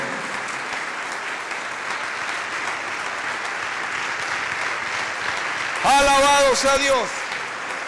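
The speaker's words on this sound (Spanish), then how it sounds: "Denle un aplauso fuerte al Señor Jesucristo" A church congregation applauding, a steady, full wash of clapping throughout, with a voice speaking loudly over it near the end.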